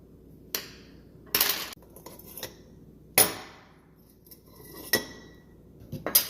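Screwdriver prying and popping off the metal ring of a kitchen sink drain: several sharp metallic clanks and scrapes, close and distinct, spaced irregularly with quiet gaps between.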